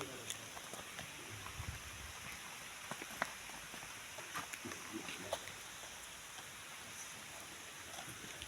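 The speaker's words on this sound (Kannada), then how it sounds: "ನಾವು ಬಂದಿರೋ ಟೈಮಿಗೆ ಕರೆಕ್ಟಾಗಿ ಮಳೆ ಬರ್ತಾ ಇದೆಯಲ್ಲ" Rain falls at a dargah shrine, a soft, steady patter of drops on surfaces with a few sharper taps, quiet and continuous without nearby speech.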